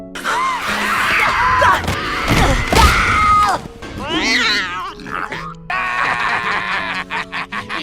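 Several loud, strained mewing cries from a lion cub rise and fall in quick succession, close by, followed by a rough crash-like scuffle and more cries.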